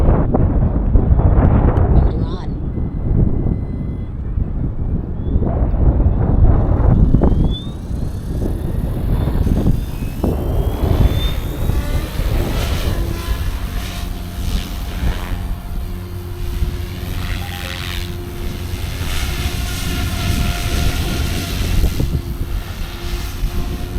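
A SAB Goblin Raw 500 RC helicopter with an orange paint scheme flies on its second flight, a loud continuous whine and rotor buzz with strong wind rumble on the microphone and pitch shifting as it maneuvers.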